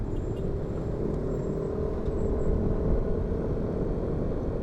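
Congested rush-hour traffic on a Jakarta road between SCBD and Sudimara, heard from a moving motorbike: a steady low engine rumble with surrounding cars and a faint hiss of brakes, continuous and close.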